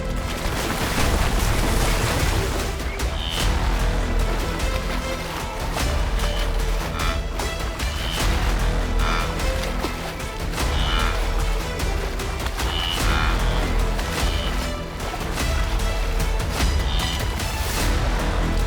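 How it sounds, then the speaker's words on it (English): A Serengeti herd crossing a river, with continuous heavy splashing, churning water and spray, loud and sustained throughout with no speech. "What follows is chaos, splashing hooves, desperate calls, and clouds of spray as panic ripples through the herd."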